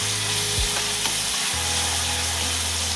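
Tomato and kantole stuffing sizzling in a hot pan while being stirred, a loud steady fry with a couple of brief scraping strokes of the spoon.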